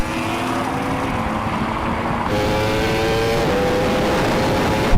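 Ferrari SF90 accelerating hard from a 50 mph roll-on in a drag race against a Porsche Taycan Turbo GT and a Yamaha R1M, a loud close roar with rising engine tones, then a sharp tonal shift as it surges past.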